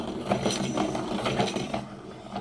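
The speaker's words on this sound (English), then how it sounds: "So you could hear it grinding away, and then you could hear it stop." A hand-cranked Dahle 133 pencil sharpener grinds steadily with a rhythmic, ratcheting rasp, close and moderately quiet.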